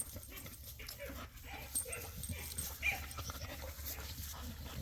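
Dogs outdoors in a yard with a young American Bully puppy, soft whimpering, panting and small yips over a faint noisy background, low in level and somewhat distant.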